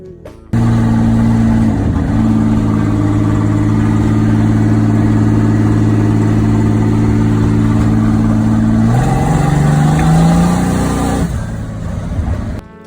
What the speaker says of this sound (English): I'm gonna go take it for a drive and see if it's any better.